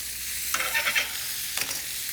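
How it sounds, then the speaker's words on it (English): Meat and vegetables frying in a pan in a kitchen, a close sizzling hiss with bursts of crackle and stirring scrapes, no talk. "because we've got the meat sealing off in the other frying pan"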